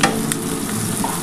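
Ghee sizzling in a pan while egg chicken biryani cooks, a close, steady frying crackle with light stirring scrapes, no voices.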